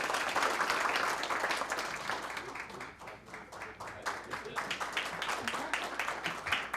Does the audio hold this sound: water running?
no